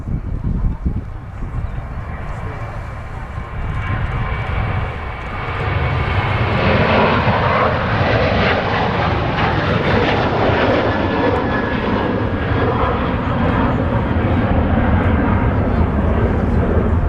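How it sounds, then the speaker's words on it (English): A Ryanair airliner rolls down the runway at Manchester Airport, its jet engines building into a loud, steady roar that swells after a few seconds and holds, with a voice talking over it early on. "Ryanair now rolling on the runway"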